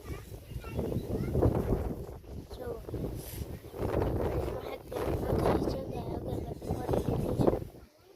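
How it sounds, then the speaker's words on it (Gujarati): Strong wind buffets and roars across the microphone in gusts, rising and falling throughout, with muffled voices partly buried underneath. "અત્યારે ખૂબ જ ઠંડો પવન આવે છે"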